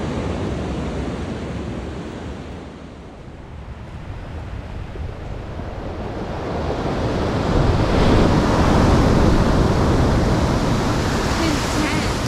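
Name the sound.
ocean waves coming in on shore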